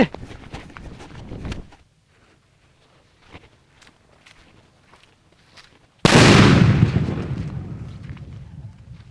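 A few faint crackles and taps, then a single loud, sudden blast from a ten-kilo paper firecracker that booms and slowly rolls away over several seconds.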